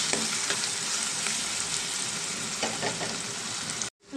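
Onions fry in a pan for a curry of drumsticks, tomato and eggs, a steady dense sizzle with occasional stirring scrapes, close and continuous, ending abruptly in silence near the end.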